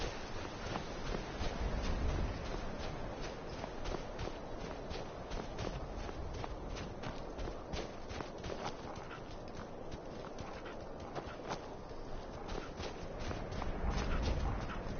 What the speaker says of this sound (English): Hey, horse.